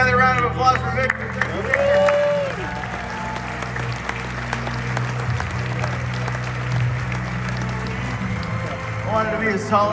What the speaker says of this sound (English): Another round of applause for Victor.